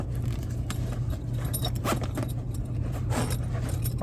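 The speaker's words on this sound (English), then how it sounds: "so now they're both zipped up" Zipper being drawn closed on Tesloid frunk cooler bags for a Tesla Model Y, giving several close, scratchy zipping strokes over a steady low hum.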